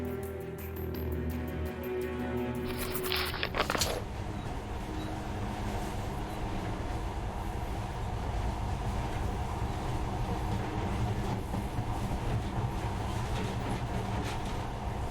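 A monorail train runs with a continuous low rumble and rattling hum inside the post-apocalyptic shooter Metro: Last Light, preceded by a brief mechanical whir and clank at the start, steady and close with no talk.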